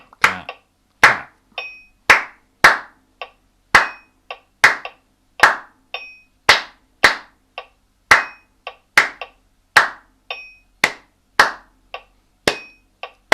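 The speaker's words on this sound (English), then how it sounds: "Clap, clap, clap, clap, clap." Steady hand clapping during a music warm-up in C major, crisp close claps in a repeating rhythmic pattern with short groups and pauses, with a faint high ringing tone on some beats and no talking.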